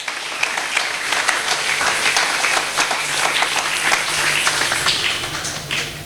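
A church congregation claps and applauds the Lord, dense steady clapping from many hands that holds for several seconds, fairly loud and close.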